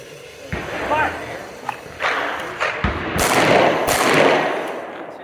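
Handgun shots fired one at a time during a tactical moving-threat drill at an outdoor range, sharp reports spaced irregularly with an echoing tail, mixed with background noise.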